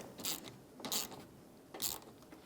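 A nut being snugged up on the AC condenser of a 2012-2020 Ford Focus gives three short ratchet-like mechanical bursts, roughly evenly spaced, close and fairly quiet with no talk.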